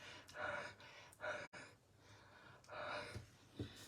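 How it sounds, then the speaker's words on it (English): Breath is huffed onto an inked rubber stamp in short, close, breathy puffs, several soft exhalations spaced through a few seconds with quiet pauses between. "you're just going to give it a bit of a huff with your breath, because the ink will have started to dry"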